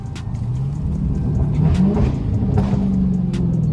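Dodge Hellcat engine revving hard with a steady mid-pitched roar that rises and falls, broken by several short sharp exhaust pops, loud and close with no talk.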